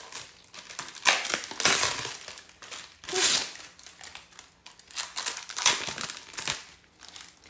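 Plastic barrier film peeled and pulled off a PMU tattoo machine, crinkling and crackling in several close bursts with short quieter gaps, no voices over it.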